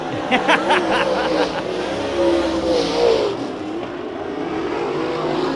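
Rob Sanders' 10N race car accelerates hard out of turn two at Bakersfield Speedway during the Budweiser Nationals heat races, its engine roaring loudly and steadily with rising pitch, crowd and track noise mixed in.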